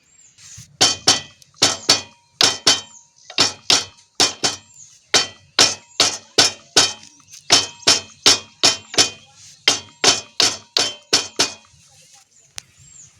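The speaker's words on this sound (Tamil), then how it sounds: "லைட்டாக கையில் வச்சு அழுத்தி விட்டு மீதியும் சுற்றியில் வந்து வச்சு தட்டிடணுங்க அப்போ தான் நல்லா உள்ளே போய் ஏறுங்க" Sharp metallic hammer taps drive a new oil seal into the rear rotary housing of a power weeder, loud and close, struck in quick bursts of two to four blows with brief pauses between.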